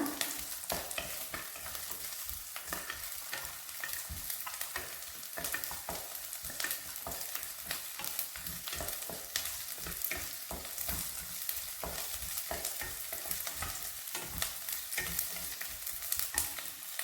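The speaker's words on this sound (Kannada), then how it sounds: "ಎಗ್ ಫ್ರೈ ಆಗ್ತಾ ಇದ್ದಂಗೆ ಅದು ಸುಟ್ಕೊಳುತ್ತೆ ಒಂದೇ ಸಮ ಕೆಂಪು ಫ್ರೈ ಆಗಲಿ" Eggs fry in a pan with a constant close crackling sizzle, broken by frequent quick scrapes of a spatula stirring and turning them, with no talk.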